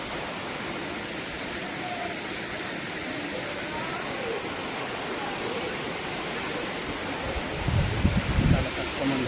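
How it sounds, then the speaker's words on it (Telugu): Gandahati waterfall in Odisha roaring steadily as water falls from above, a dense continuous broadband rush heard close up, with a brief low rumble or splash surge near the end. "పైనుండి అలా వాటర్ పడుతుంది."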